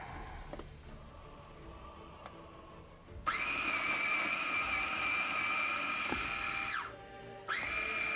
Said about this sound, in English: We need to get her a bigger blender. One that screams louder.